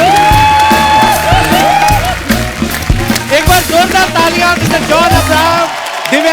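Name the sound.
audience applause and cheering for John Abraham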